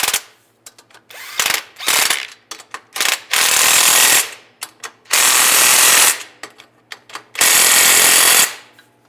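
A ratchet with a 14mm socket tightens a clamp on a 2007-2013 Chevy Silverado during rear main seal cover work: loud, close, rapid clicking bursts repeat in uneven runs, each lasting up to a second, separated by short silences.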